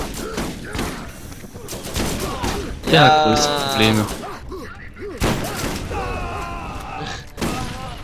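Loud blasts and rapid bursts of gunfire erupt in a three-player session of the video game Borderlands, with a big explosion around the middle while players talk over the chaos.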